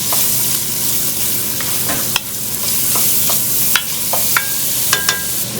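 Onion and grated potato frying in melted butter in a pan, a steady close sizzle with occasional sharp pops and crackles and light stirring, no talking.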